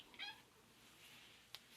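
A cat gives one short, faint meow from a quiet indoor space, followed a moment later by a brief high chirp.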